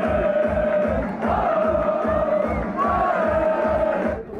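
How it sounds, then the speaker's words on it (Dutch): A crowd cheers and chants at Urk harbour to celebrate the town's first hoofdklasse championship in 22 years. Loud massed voices and whoops rise over a thumping, regular beat. "Nog één keer juichen."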